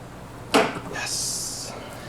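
A single sharp knock from a Gottlieb Street Fighter pinball machine's knocker, loud and close, followed by a brief hissing electronic tone.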